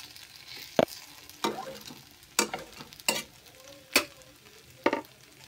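Onion, garlic and green chili frying with spices in a wok, a constant close sizzle broken by sharp scraping and clanking of the stirring spoon against the pan about once a second.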